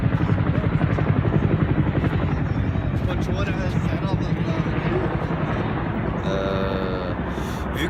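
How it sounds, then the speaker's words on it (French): A military helicopter flies over central London, its rotor beating in a fast, steady, loud thump that fades slightly over several seconds, with a voice talking faintly underneath. "ah c'est un hélicoptère militaire."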